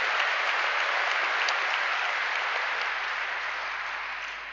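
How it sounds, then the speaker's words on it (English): A large congregation at a Christian revival meeting in Los Angeles bursts into sustained, dense applause that fills the room evenly and fades slightly toward the end, with no speech over it. "let's give the Almighty God a big round of applause for the revival that is going on"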